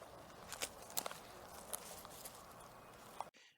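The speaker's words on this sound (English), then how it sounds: "Something walking out there." Something walking outdoors at night at Fort DuPont: faint irregular footfalls crunch over a hissy background, a few sharper steps standing out before the sound cuts off abruptly.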